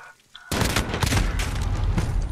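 Desert Eagle pistol fire in a first-person video game: a rapid, loud string of gunshots following a brief quiet moment, overlapping into near-continuous booming bursts.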